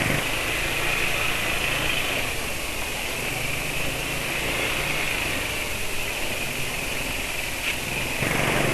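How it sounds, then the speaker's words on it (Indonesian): A motorcycle engine runs rough after 500 km on Deltalube Adventure oil, giving a constant, close, harsh droning buzz with no talk. "suara mesin sudah kayak motor-motor yang selama ini penulis kritik"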